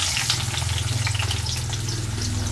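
Onion and tomato hit hot oil in a pan while cooking chicken keema, giving a loud, continuous sizzling and crackling fry close by with a low steady hiss underneath and no talking.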